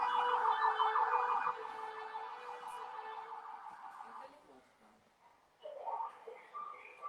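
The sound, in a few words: fire engine siren arriving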